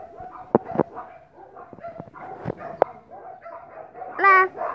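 Dogs in a domestic setting giving short yips, barks and whimpers, close by and intermittent, ending in a rising whine, with people talking softly in the background.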